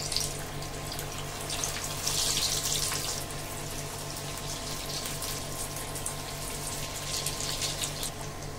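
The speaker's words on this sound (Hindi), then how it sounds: "अब इसको हम फ्राई के लिए रोल को डालेंगे।" Chicken cheese shahi kebab rolls frying in hot oil, a steady close sizzle and crackle that holds evenly throughout without talk.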